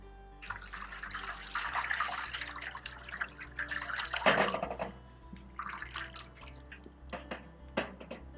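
Laundry being rinsed by hand in a tub of water in a 19th-century style wash demonstration: close sloshing, splashing and dripping water in irregular bursts, with no talk.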